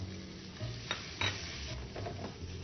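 Snakehead fish going into hot oil with browned shallots, a faint, close sizzle with a few soft stirring scrapes and clinks.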